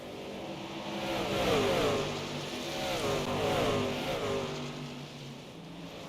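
NASCAR trucks racing at Iowa Speedway in iRacing, engines droning and revving through gear shifts as a pack passes, a steady mid-pitched roar swelling and easing, no speech.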